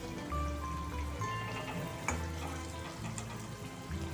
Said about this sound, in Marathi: अशा रीतीने आपल्याला सगळे डोनट तळून घ्यायचे आहेत. लो फ्लेमवरच तळायचे आहेत आपल्याला ते.